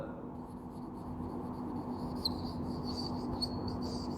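Chalk or marker scratching across a classroom board as a teacher writes during a maths lesson, a steady close scraping with a few sharper squeaks, over a constant background hum.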